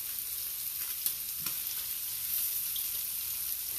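Thick bacon frying in a pan for an English breakfast, a steady bright sizzle and crackle with a few small pops, even and continuous throughout.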